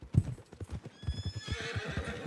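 A horse in the video game Red Dead Redemption 2 trots with steady clip-clopping hooves, then lets out a long whinny over the continuing hoofbeats, fairly near and moderately loud.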